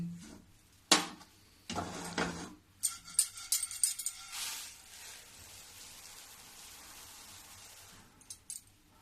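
Golden roasted sesame seeds are tipped from a pan into a kitchen vessel in several short, rattling bursts, like a rain of small grains on metal, close by, then quieter scraping and a few final taps, with no talking.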